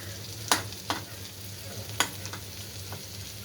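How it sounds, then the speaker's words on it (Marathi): Bitter gourd pieces frying in a kadhai and being stirred until crisp: a steady low sizzle broken by a few sharp, close spatula scrapes against the pan, with no voices. "पूर्ण असं छान असं कडक करायचं असं कढईच्या साह्याने असे कारले आपले एक एक करून पसरून घ्यायचे"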